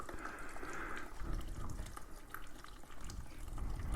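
Gasoline drains from a Husqvarna 701 motorcycle fuel tank in a faint, steady trickle with occasional drips, close and quiet with no speech.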